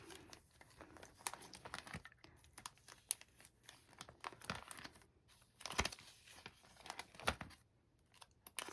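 Tissue paper and small paper scraps are handled and crinkled by hand, with irregular rustling bursts and sharper crackles scattered through the stretch, close up and fairly quiet.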